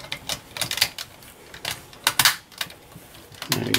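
Plastic parts of a Bandai DX VF-25 armor toy snap and click together in scattered sharp pops and clicks, close and fairly quiet, with no speech.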